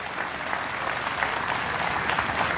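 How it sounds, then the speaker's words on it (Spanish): A crowd applauds a musician at the Mburucuyá 2017 festival, with a brief burst of continuous, close clapping and no talking over it. "Fuerte el aplauso para él."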